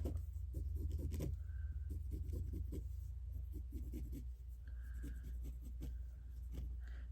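A sewing line is drawn on fabric in short, scratchy strokes that come in quick bursts with brief pauses between them, close by and fairly soft.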